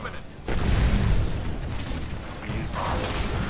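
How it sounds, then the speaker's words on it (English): Nuclear explosion in the video game Titanfall, a loud low boom that rises suddenly and rumbles on for about a second, then fades into continued game noise with voices over it. "Boom! Nuclear explosion!"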